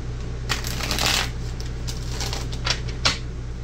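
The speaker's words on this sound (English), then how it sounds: "Last shuffle," Tarot cards being shuffled in a continuous riffling patter with a few sharper flicks, close and moderately loud over a steady low hum.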